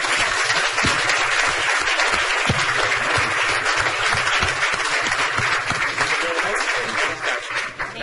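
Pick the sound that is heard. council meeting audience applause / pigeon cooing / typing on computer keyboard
council meeting audience applause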